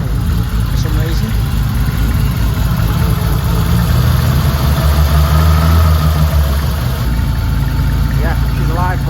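A BMW E28 with a swapped M20B25 engine runs at a rough, uneven idle, a loud, close, steady mechanical drone and rumble throughout, with a voice faintly underneath.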